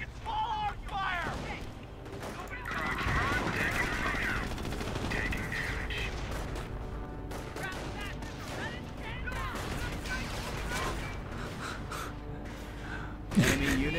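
Machine gun and small arms fire crackle through a Company of Heroes battle, with dense rapid bursts and scattered shots running steadily beneath voices shouting and talking, and a sharper bang near the end.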